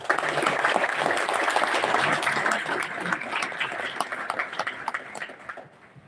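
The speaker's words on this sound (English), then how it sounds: "Please join me in giving a round of applause." Applause from the audience at the opening of a Pacific regional seminar on C-24, with a brisk, full round of clapping that gradually thins into sparse claps and dies away.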